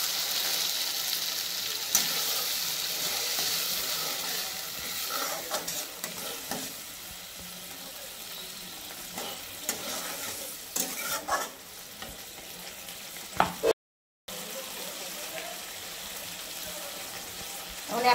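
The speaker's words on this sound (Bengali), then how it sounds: "মশলাটা ভাজার পরে তেল বেরিয়ে গেছে, এখন আমি টক দইটা দিয়ে দিচ্ছি।" Fried masala paste with poppy seed and melon seed sizzles in oil in a pan as sour yogurt goes in for a Bengali doi katla fish curry, a steady close frying hiss with scraping stirs throughout.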